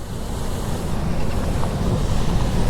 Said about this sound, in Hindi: यहाँ इतनी तेज़ हवा चल रही है